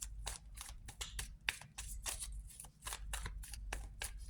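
Tarot-style reading cards being shuffled by hand, a fast run of crisp papery riffles and slaps in steady bursts, close up with no one talking.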